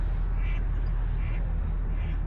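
Geese honk in a few spaced calls as they fly past over a beach, moderately distant and half masked by steady low wind rumble.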